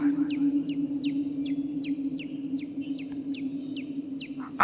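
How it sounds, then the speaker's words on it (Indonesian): Baby chicks on a mountainside give a run of high, repeated peeping chirps, two or three each second, over a steady low hum. "Ada suara anak ayam di gunung seperti ini."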